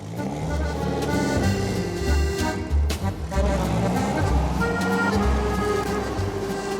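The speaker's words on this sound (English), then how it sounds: "I love the sound of that motor." A car engine hums steadily from inside the cabin while driving along a road following the Rhine in Alsace, a continuous loud low drone with shifting tones and no voices.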